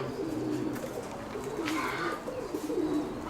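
Soft, low pigeon coos repeating in a muffled, continuous murmur, fairly quiet against background noise.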